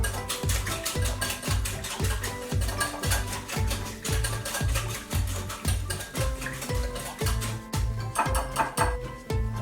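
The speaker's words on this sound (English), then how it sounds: "I'm going to mix it real well" Steady rhythmic scraping and clinking of a utensil stirring marinade ingredients with hamburger seasoning in a bowl, close and continuous with regular strokes, no talking.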